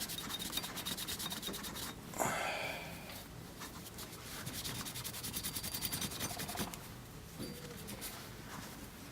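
Steady scratchy rubbing of a Glock pistol part being scrubbed during cleaning, continuous close friction with brief stronger strokes, no talking.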